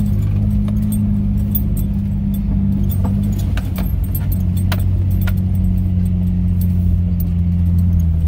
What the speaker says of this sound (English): I'll just give you a second of driving.